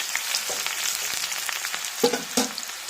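Chopped garlic for a bitter gourd pickle fries in hot oil in a pan, crackling and sizzling steadily up close, with a few soft stirring taps and scrapes.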